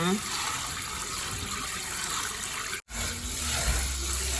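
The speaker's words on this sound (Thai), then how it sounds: "จากนั้นก็ล้างน้ำให้สะอาดค่ะ เอาน้ำออกให้สะอาดเลยนะคะ" Glutinous rice for three-colour sweet coconut sticky rice is rinsed under running water, a loud, steady close gush with one brief break before it resumes.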